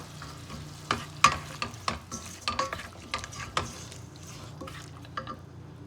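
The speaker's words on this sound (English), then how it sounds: "I'm adding some chopped tomatoes." Beef fried rice with chopped tomatoes being stirred in a frying pan, a soft steady sizzle under a string of sharp scraping and clinking utensil strikes against the pan, close and irregular.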